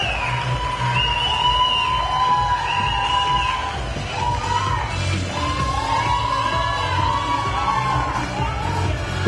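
A beauty pageant audience cheering and applauding, with yells and whoops rising over a continuous crowd roar, loud and sustained throughout.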